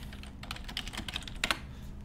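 Fingers type on a computer keyboard during an online Magic: The Gathering match, a quick, uneven run of close, crisp key clicks with a couple of louder strikes near the end and no talking.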